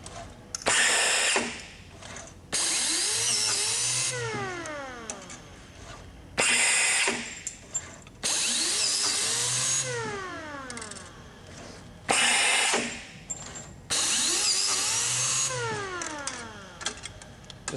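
A McKeegan machine pulls material through its drive wheels, cycling in repeated loud mechanical bursts of whirring and rising whine separated by brief quieter gaps.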